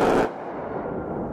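An A-10 jet's Gatling gun fires during strafing training, a dense ripping burst that cuts off quickly and leaves a deep rolling rumble echoing afterward.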